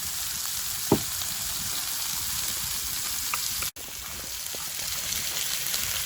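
Spaghetti sauce with leftover squished tomato cooking in a pan at a lakeside campsite, a steady soft sizzle and bubble throughout, with a few small pops and a brief dropout partway, no talking.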